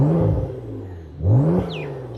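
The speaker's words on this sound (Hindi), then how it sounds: "V6 जो है चूँकि टर्बो है तो उसकी एक अपनी आवाज़ है टर्बो की वजह से" Turbocharged V6 of a Porsche Macan Turbo revving twice, each rise swelling into a deep throaty roar and easing back, with a faint turbo whistle near the end, loud and close with no talking.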